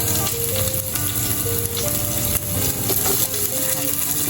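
Garlic and onion frying in cooking oil for squid adobo, a dense continuous sizzle that stays loud and close throughout, with faint clinks and background tones underneath.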